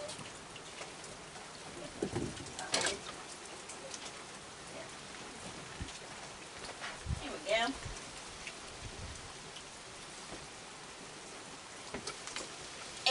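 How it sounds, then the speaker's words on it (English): Steady rain falls continuously at night, a soft even hiss with scattered louder drips and patters, while a voice speaks briefly in the background. "It's raining here. It's been raining for the last day."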